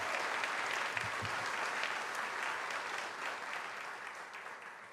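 An audience at a New York City mayoral education announcement applauds steadily for about five seconds, a dense even wash of clapping that eases slightly toward the end.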